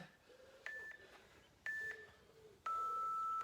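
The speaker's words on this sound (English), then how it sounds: "Remember the first beep you hear is the 3 seconds" Three electronic beeps at an even one-second pace, the last held longer and louder, over a faint background hiss.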